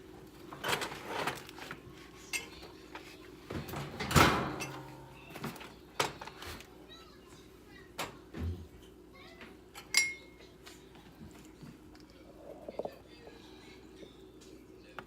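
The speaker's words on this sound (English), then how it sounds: "we're gonna take our neck bones out of the oven" A pan of neck bones comes out of the oven in a home kitchen with scattered metallic clanks, a door thud and clinks of cookware, sparse and fairly quiet against a still room.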